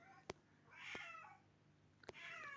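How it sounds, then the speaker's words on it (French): A house cat meows twice, two fairly close drawn-out calls separated by a pause, with a few sharp clicks or taps in between and no talk. "Ah oui, là, vous entendez mon chat."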